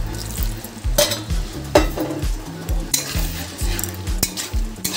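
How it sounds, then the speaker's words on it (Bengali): Spices with Kashmiri chilli powder and a splash of water sizzling in a pan for Bengali prawn curry, with a spatula repeatedly scraping and stirring against the metal in quick, loud, close strokes. "ভালো করে মশলাগুলো কষিয়ে নেব।"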